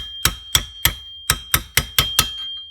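Seven sharp metallic hammer blows on an old chisel, bending a locking tab on a Norton Commando 750 during restoration, each strike ringing briefly in a steady rhythm with one short pause.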